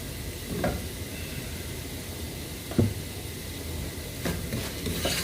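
Coriander powder and other spice powders roast in a pan on low heat for sausage masala, giving a soft continuous sizzle and hiss broken by a few sharp stirring scrapes.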